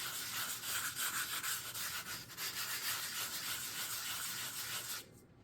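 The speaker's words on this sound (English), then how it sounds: "I find that the sort of the higher number grit sandpaper works really well. So I'm just going to rub this on here." Fine-grit sandpaper rubbed steadily over dried plaster of Paris, a continuous close hissing scrape that holds level for about five seconds and then stops abruptly.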